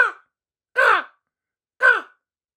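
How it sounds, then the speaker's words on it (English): Three separate harsh caws from a crow in dark, sparse woods, clear and fairly close, evenly spaced with silence between them. "Mostly just crows, cawing."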